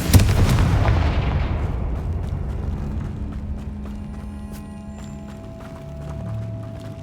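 A Confringo blasting spell explodes in Hogwarts Legacy's catacombs, a loud booming blast at the start that decays into a long rumbling tail with faint lingering tones.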